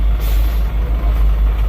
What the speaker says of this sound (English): It is crazy how many logs these trucks can pull.